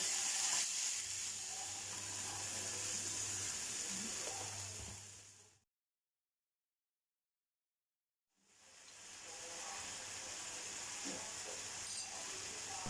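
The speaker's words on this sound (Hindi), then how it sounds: "इसमें मैंने ऐड कर दिया थोड़ा सा ginger garlic paste and again मैं इसको फ्राई कर रही हूँ" Small chicken breast cubes frying with ginger garlic paste, a soft hissing sizzle that cuts to silence midway and then returns, quiet and without talk.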